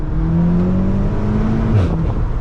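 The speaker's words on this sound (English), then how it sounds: "it'll upshift on its own, even in full manual mode" A 2021 VW Golf R Mk8 with a DSG gearbox pulls hard in second gear, engine droning loud and steady close up, then a brief dip as it upshifts on its own.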